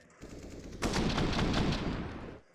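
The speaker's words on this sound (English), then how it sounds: "Great shot from Twists." Counter-Strike: Global Offensive gunfire on the Ancient map in a professional match: a short, loud, close burst of automatic rifle shots lasting about a second and a half, then cutting off.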